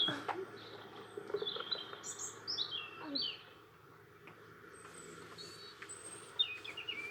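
Several birds chirp and tweet in scattered bursts over a steady outdoor background near the sea, moderately close.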